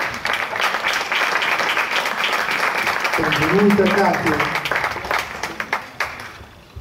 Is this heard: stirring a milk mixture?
no